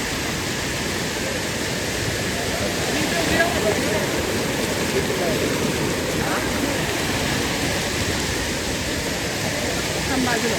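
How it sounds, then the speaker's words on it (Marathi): A jungle waterfall in Maharashtra roars with a dense, steady rush of falling water that fills the whole scene without a break, loud and unchanging. "जिथून हा वॉटरफॉल खाली जातो आहे"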